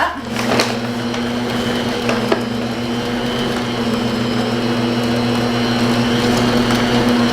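A mixer churns Grinch cookie dough ingredients with a loud, continuous mechanical whir. It holds steady throughout and rises slightly in strength toward the end.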